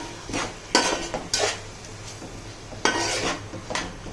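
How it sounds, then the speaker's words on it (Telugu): Cut okra pieces tipped into hot oil in a pan for an Andhra-style okra fish curry, giving a few clattering bursts of metal and utensil contact with light sizzling between them, with no talking. "ఇప్పుడు బెండకాయ కట్ చేసుకున్న ముక్కలు వేయాలండి"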